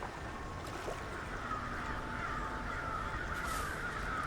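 Birds in the video game Peregrino caw harshly over a wash of watery ambient noise, with a few faint flutters as they take off, all fairly quiet and distant.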